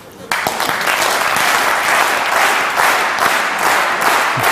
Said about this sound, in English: Can you get it together to clap in sync?